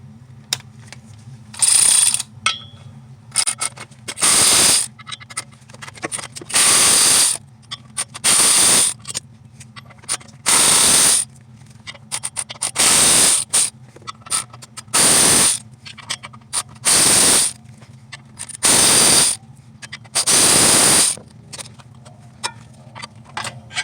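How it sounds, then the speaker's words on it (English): Power tool with a T40 bit removing nine flywheel bolts on a 2012 Nissan Sentra during a clutch job, repeated loud whirring ratchety bursts of a few seconds each, separated by quiet pauses, close up and with no talking. "So now we're going to go ahead and take our flywheel bolts."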